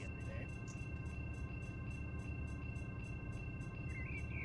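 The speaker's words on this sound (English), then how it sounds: "Here comes that Union Pacific manifest train. But hear its horn too as it comes across the crossing." Union Pacific manifest train rolling through a crossing in the Run 8 train simulator, a steady low rumble with rhythmic wheel clatter and a sustained tonal horn chord held across the whole stretch.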